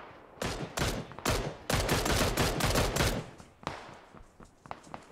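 Gunfire in PUBG, a battle royale video game, comes as a string of sharp, loud bursts and rapid volleys, some close together, then trails off into scattered fainter shots.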